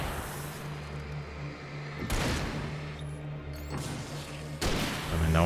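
Rifle shots in Alan Wake, three heavy booming reports spaced a couple of seconds apart over a steady low background hum.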